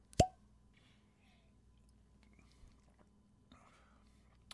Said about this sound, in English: Brand new fresh cork pop.